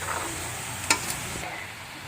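Continuous sizzling of pork frying in a pan with a sharp metallic clink near the middle, a softer tap after, and no talking.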